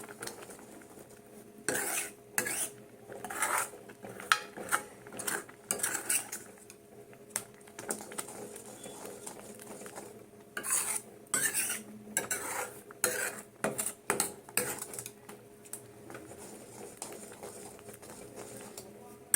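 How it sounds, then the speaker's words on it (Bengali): Carrot payesh, milk thickening with crushed chhana, stirred in a pan with a spoon, giving intermittent scraping and clinking bursts against the metal at close range, separated by quieter pauses. "এভাবে নাড়িয়ে নাড়িয়ে দিতে হবে তাহলে জিনিসটা সুন্দর হয়ে যাবে"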